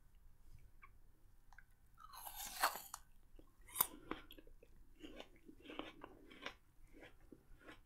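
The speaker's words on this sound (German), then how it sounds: "in diesem Food ASMR Video werde ich nicht extra beim Essen schmatzen, sondern ich esse so," Lahmacun, a Turkish flatbread, is bitten and chewed up close in a quiet room, with a couple of sharp crunchy bites followed by softer, irregular chewing sounds.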